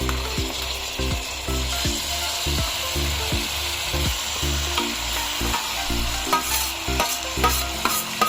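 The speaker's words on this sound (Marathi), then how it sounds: "आपल्याला काय करायचंय छानसं मटण जे आहे ना परतून घ्यायचंय" Mutton is stirred and sautéed in a pan, a spoon scraping in a regular rhythm over a continuous loud sizzle, close up with no speech.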